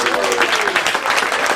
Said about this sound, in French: Applaudissez encore, s'il vous plaît.